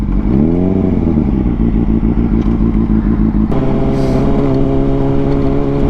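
A motorbike engine idles loudly and close, its throb rising briefly at the start and then settling into a steady rumble before dropping to a lower, even tone partway through.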